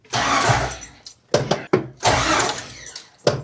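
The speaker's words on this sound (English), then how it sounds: "Now we're gonna bump the ignition until we're at top dead center on our balancer." A Jeep engine is cranked in short bumps of the ignition, giving several brief bursts of starter grinding separated by pauses, close and fairly loud, with no talk.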